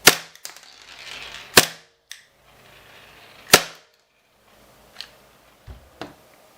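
A WE Tech F226 airsoft pistol fires several sharp, separate snapping shots at uneven intervals, the three near the start loudest and closest, followed by fainter clicks and ticks between them.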